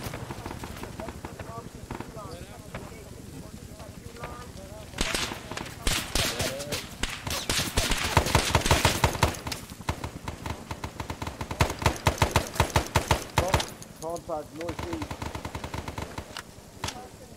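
Dense bursts of automatic gunfire and scattered rifle shots in ARMA 3 SOG Prairie Fire's Vietnam 1966 setting, building into heavy rapid volleys in the middle before thinning out, with voices talking over parts of the firefight.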